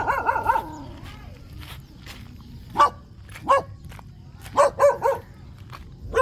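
A dog barks in short separate bursts, a quick cluster at the start and more single and paired barks later, fairly close, with some quiet talk in between.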